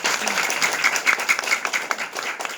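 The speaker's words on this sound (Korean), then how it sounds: "우리 두 배 큰 박수 한번." Sustained applause from a church congregation during a Sunday service, a dense patter of many hands clapping together, fairly loud and steady throughout.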